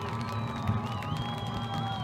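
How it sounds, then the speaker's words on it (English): A crowd applauds and cheers the winning Canterbury Cobras rugby league team at the State of Origin 2020 match against the Nelson Knights; a steady, moderately distant wash of clapping and shouts runs throughout. "So give them a round of applause, ladies and gentlemen."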